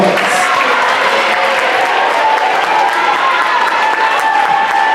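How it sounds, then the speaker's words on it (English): A crowd at a middle school assembly applauds a student leader, steady dense clapping mixed with cheers and murmuring voices filling the hall throughout. "Give him a round of applause."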